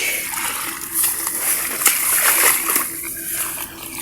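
Splashing and sloshing water as someone moves through a shallow, weedy pond, with irregular surges of noise, close by.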